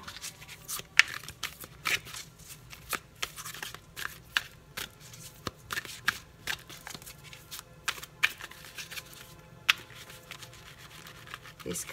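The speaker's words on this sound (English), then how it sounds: "These cards are so difficult to shuffle, y'all." Sharp, irregular riffling and snapping of large, stiff tarot cards being shuffled, close by and fairly quiet, repeating in short bursts over a faint background hum.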